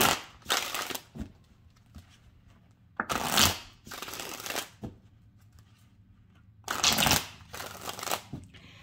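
Oracle cards shuffled by hand in three strong bursts, each a dense papery riffle lasting about a second, separated by brief quiet gaps, close up and without speech.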